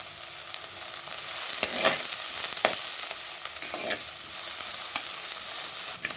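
Curry leaves and onion frying in hot oil in a pan, a steady loud sizzle with crackling pops and occasional stirring scrapes, close and continuous with no voices.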